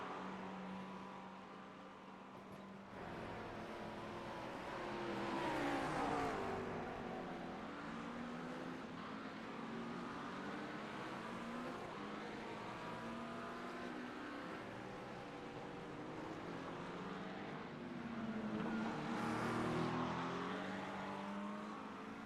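Race cars in iRacing at Bathurst roar past, engines rising and falling with pitch sweeps as cars close in and pull away, a continuous layered drone without talk.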